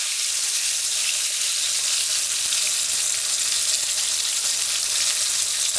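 Coconut-coated fish frying in hot oil in a pan on the stove gives off a steady, loud, even sizzle that carries on without a break and with no talk over it.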